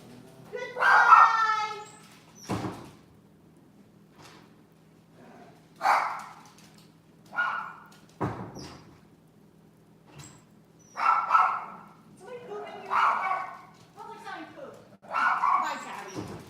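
A dog barks in several short bursts at moderate distance, spaced a second or two apart, with a few yips in between over a low steady hum.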